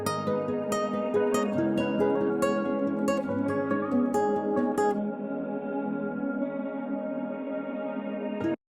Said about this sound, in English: Haunting Melodies sounds like this.